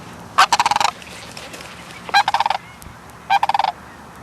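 Sandhill cranes give three loud bursts of rapid rattling, bugling calls, each a quick pulsing series, close and clear over a quiet background.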